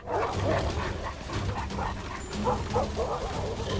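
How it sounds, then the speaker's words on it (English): Several dogs, a Doberman, a boxer and an Akita among them, bark and yip in quick irregular bursts at close range, with some voices mixed in. "We got a Doberman. We got a boxer. We got another Akita."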